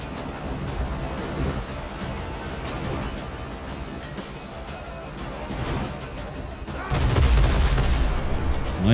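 Ship cannons firing in the pirate video game Windrose, a run of loud booming shots over sea and battle noise, building to a heavier, sustained barrage near the end.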